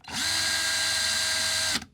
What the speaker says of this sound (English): So our drill is now reversed in the original direction. So now it's going counterclockwise.